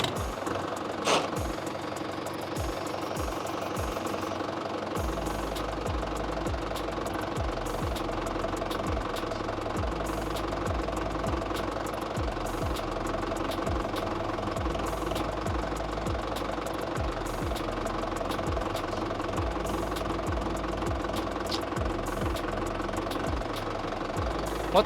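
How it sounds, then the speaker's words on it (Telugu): A tractor engine, with packing tape wrapped in front of it for a pulling test, cranks with a few sharp clicks, then catches and settles into a steady, close, knocking diesel idle that runs on evenly without talk. "ఇప్పుడు మనమైతే ట్రాక్టర్ని స్టార్ట్ చేద్దాం అండ్ ఫ్రంట్ సైడ్ మూవ్ చేద్దాం"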